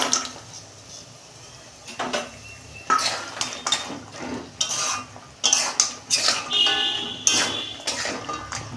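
Gaja sweets are added to a frying pan and stirred, with repeated clanks and scrapes of a utensil against metal and some sizzle, close and moderately loud.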